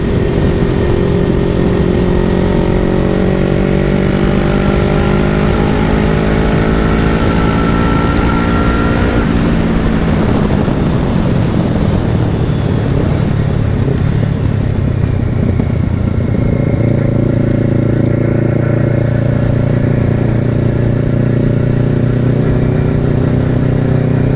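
A touring-style motorcycle rides the Isle of Man TT course on open roads, its engine droning loud and close throughout, the pitch climbing through the gears, dropping sharply around the midpoint, then settling into a steady lower hum.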